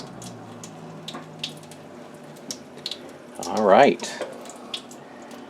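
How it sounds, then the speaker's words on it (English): Water runs briefly from a tap into a sink, a short splashy burst in the middle amid scattered small clinks and handling noises, with a person speaking briefly. "If we don't leave the water running during that time period"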